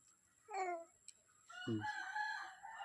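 Chickens cluck and crow in a brief, moderately loud burst near the start, followed by a louder, longer crowing call in the second half; no talking.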